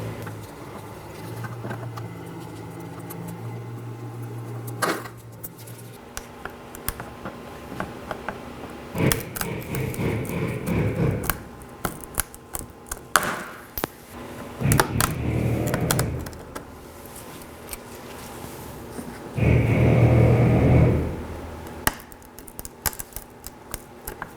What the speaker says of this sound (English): Now I'll be removing these with the trim tool.